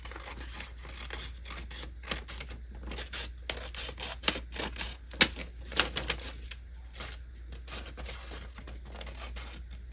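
Paper being trimmed for a simple handmade travel journal: a run of sharp, close cutting snips and crisp paper rustles in irregular bursts, with a steady low hum beneath and no talking.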